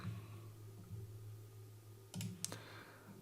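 A computer mouse clicks on an update button, giving two quick, faint clicks over a low electrical hum in a quiet room.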